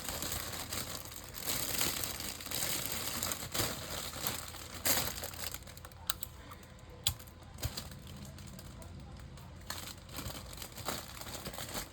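Gift wrapping paper being folded over a present and taped down at the sides. Close, dry crinkling and rustling comes in bursts with a few sharp taps and snaps, and no one speaks.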